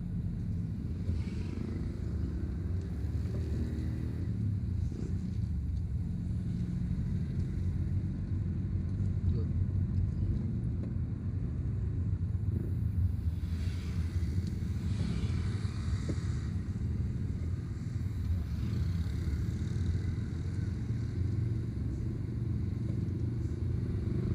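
Steady low rumble of street traffic in Padang Panjang, Indonesia, with passing cars and motorcycles parked along the roadway, engines droning continuously, with faint voices in the background.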